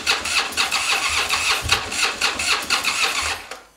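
Porsche 911T engine at a private garage, a steady mid-pitched idle just after starting, close and fairly loud with a regular pulsing rumble, fading briefly at the end.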